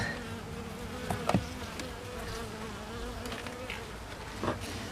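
Bees buzz on honeycomb in a beehive, a soft, continuous drone up close, with a few louder passes of individual insects.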